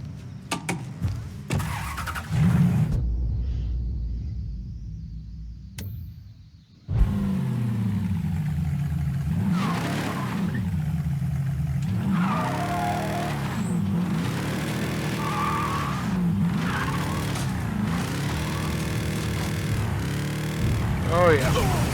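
A car in the Mafia 3 video game starts up and revs, then drives with a steady engine drone and rising and falling revs, heard up close, with speech mixed in.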